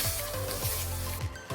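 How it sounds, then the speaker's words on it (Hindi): Soya granules fry in hot oil, giving a steady close sizzle with faint scraping or stirring sounds. "ये ऑयल जब गर्म हो जाएगा तब ऐड कर देंगे इसमें हम ये सोया ग्रैन्यूल्स, और इनको पहले थोड़ा सा हम कुक कर लेंगे"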